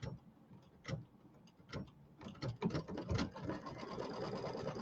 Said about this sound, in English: So the next part is going to be all the satin stitching here.